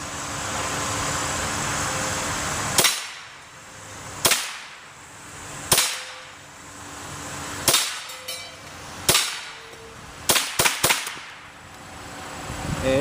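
Remington Viper ammunition fired outdoors in a string of about eight sharp gunshots, irregularly spaced, the last three in a quick burst, each cracking loud and close with short decaying echoes.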